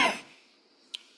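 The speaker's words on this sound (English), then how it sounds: "the cough is still bothering me a little" A single short, husky cough from a person with a cold, close and moderately loud, fading into near silence with a faint tick just after.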